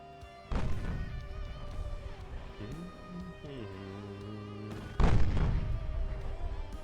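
Main battery 8-inch turrets of a warship firing in Ultimate Admiral: Dreadnoughts, two heavy booming salvos a few seconds apart, each with a long rumbling tail under game music.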